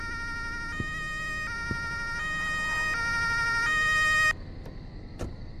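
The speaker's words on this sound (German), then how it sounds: "Der Krankenwagen kommt gerade, beziehungsweise Notarzt" Ambulance siren in a Roblox video game, a looping two-tone wail repeating steadily at moderate level, then cutting off abruptly, followed by quieter background and a couple of short clicks.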